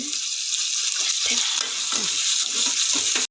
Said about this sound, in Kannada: ಚೆಂದ ಆಯಿಲಲ್ಲಿ ಫ್ರೈ ಮಾಡಬೇಕು, ಟೇಸ್ಟ್ ಬರುತ್ತೆ